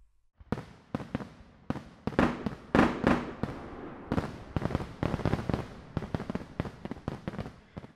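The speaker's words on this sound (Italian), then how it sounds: "qui ci sono rappresentati praticamente tre tipi di fuochi d'artificio" Fireworks sound effect for an After Effects particle animation of three kinds of fireworks: a dense run of sharp crackling bursts and pops, loud and close, with overlapping booms and sizzling tails filling the whole stretch.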